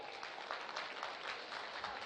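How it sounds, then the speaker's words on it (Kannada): A public audience claps for four students at a memory game session, faint but continuous crowd applause heard from a distance without talk. "ಚಪ್ಪಾಳೆ ಸ್ವಲ್ಪ ಜೋರಾಗಿ ಬರುತ್ತಾ?"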